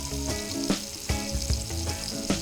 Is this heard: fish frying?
yes